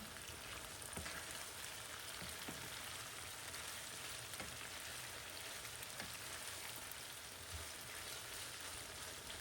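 Bell peppers and onion frying in oil, a continuous faint crackling sizzle with a few small pops, steady and even throughout with no talking.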